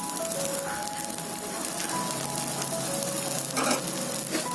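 Oil sizzles steadily around a masala dosa on a hot pan, a continuous close hiss with a brief louder crackle near the end, no voices.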